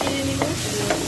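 Spices and ginger paste stirred in a frying pan, a short stretch of soft sizzling with a few quick scraping strokes, close and moderately quiet.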